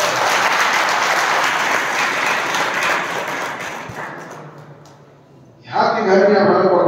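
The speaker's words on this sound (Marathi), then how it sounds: "उमेश भाऊ जरा एकदा मस्त टाळ्या वाजवून" Applause from an audience at a zero-tillage (SRT) farming guidance meeting, a dense steady clapping that fades out near the end before a voice starts speaking over it.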